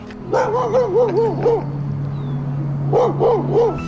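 A dog barks and yips close by in two short bursts of repeated rising-falling barks, loud and clear with a low steady background hum.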